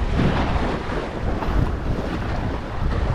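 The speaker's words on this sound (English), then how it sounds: "It is wavy. It's a windy day." Gusty wind buffets the microphone in a steady roar on a Florida oyster farm, with a faint wash of water in the background.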